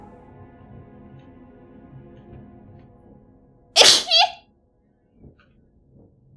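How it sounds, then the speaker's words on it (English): One loud, sharp human sneeze bursts out in a quiet room over low video game background audio, followed by brief faint sounds. "I sneezed."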